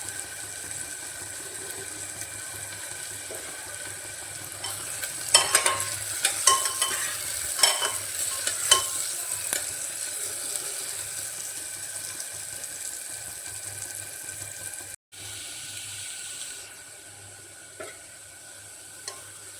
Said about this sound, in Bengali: পেঁয়াজটাতে সামান্য লবণ দিয়ে ভালো করে ভেজে নিতে হবে